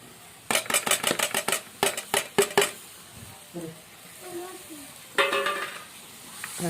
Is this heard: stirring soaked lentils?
yes